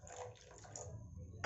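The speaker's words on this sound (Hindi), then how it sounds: "इसमें थोड़ा सा और पानी डालेंगे हम।" Water is poured into a thin batter for spinach paratha, making a faint, brief splashing trickle with no talking.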